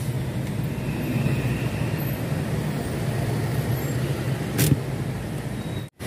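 A car rolls slowly into a parking spot at a Paraguay border crossing, a steady close engine and road rumble ending in an abrupt cutoff, with no talk.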